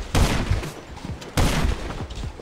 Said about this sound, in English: I'm getting sniped by two people.